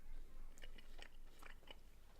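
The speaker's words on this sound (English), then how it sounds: "Let me get a bite of my hot dog" Someone biting into and chewing a hot dog close to a microphone, a few moist crunching bites and mouth sounds over low background hum, no talking.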